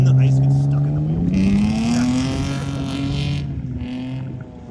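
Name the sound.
car ice drifting on a frozen lake with studded tires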